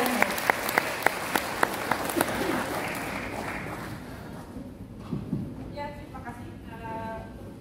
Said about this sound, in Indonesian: Kita berikan tepuk tangan yang paling meriah untuk Kak Karina.